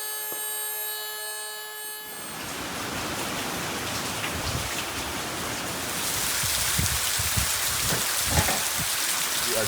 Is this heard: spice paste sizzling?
no